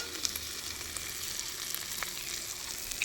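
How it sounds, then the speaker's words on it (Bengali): Spice paste frying in oil for a mustard-poppy seed fish curry, a soft, even, close-up sizzle with faint crackles and a few light spoon touches, no voices. "মশলাটা আমি ভালো করে কষে নেব।"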